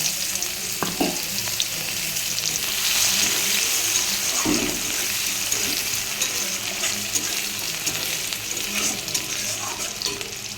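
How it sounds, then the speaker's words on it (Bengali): Chopped onions hit hot oil in a wok-style pan already seasoned with bay leaf and panch phoron, giving a steady, loud sizzle with scraping stirring strokes throughout, close up and without talk. "কড়াইতে তেজপাতা পাঁচ ফোড়ন দিয়ে দিলাম পেঁয়াজ কেটে রেখেছি দিয়ে দিচ্ছি"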